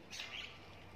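A faint, brief bird chirp in an outdoor setting in Thailand, a single high twittering phrase over a low background hum.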